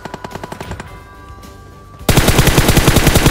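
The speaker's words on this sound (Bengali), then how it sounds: "22টা গুলি খরচা করলাম আমি" Gunfire in a shooting video game: rapid automatic bursts with sharp, evenly spaced shots, a short pause, then a louder, denser stream of fire.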